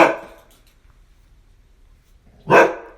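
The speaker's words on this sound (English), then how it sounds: "That's my dog you're hearing barking in the background now." A single loud dog bark close by at the end, after a fading bark at the start and a quiet pause between.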